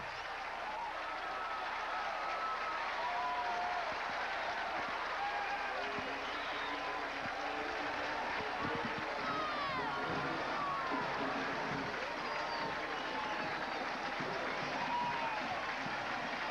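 Crowd applause and cheering after a touchdown in a 1994 Delaware versus Villanova college football game, a dense continuous roar of clapping from a large stadium audience with voices mixed in throughout.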